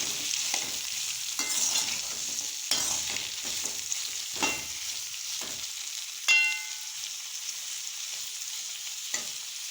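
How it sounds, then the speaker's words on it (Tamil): Onions and grated coconut sautéed with salt in a pan, sizzling steadily while a spoon scrapes and stirs in intermittent strokes, close up with no voices. "தூள் உப்பு அப்படி போட்டு நல்லா வதக்கணும்"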